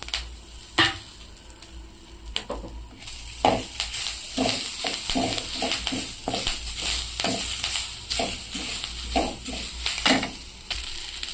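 Drumstick (moringa) leaves fry in a spoonful of hot oil for chutney, giving a steady close-up sizzle with scraping stirs and soft clatters throughout, with no talking.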